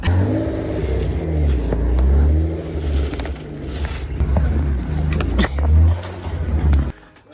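A Zhiguli car engine runs and revs unevenly nearby, rumbling loudly, then cuts off abruptly near the end.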